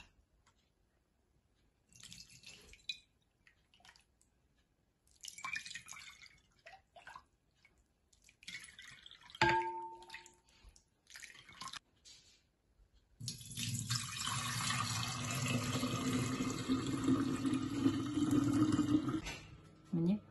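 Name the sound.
straining natural juice for Turkish lemonade through a strainer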